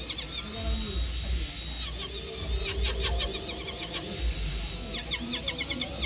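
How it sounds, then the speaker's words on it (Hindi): Small angle grinder fitted with a cutting plate carving a decorative design into a wooden bed frame, a continuous high whining buzz with shifting pitch and repeated bursts as the disc bites into the wood. "ग्राइंडर से लगभग आपका बहुत सारा काम हो जाएगा।"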